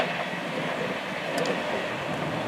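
A fast suburban train bound for Shepperton passes Wimbledon footbridge, a loud, close, steady roaring rush throughout with a brief high squeal partway through.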